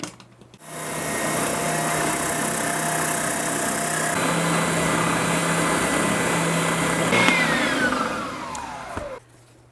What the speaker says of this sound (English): We'll get it over here to the spindle sander and clean this up and get that right up to that line.